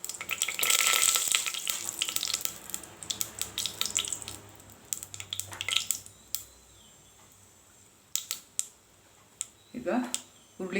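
Sambar powder frying in a little oil for horse gram rice, with a loud sizzle at the start that fades into intermittent stirring clicks and scrapes in a pan, then a few sharp knocks near the end.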